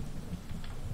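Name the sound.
rain and thunder effect in the video game Starbound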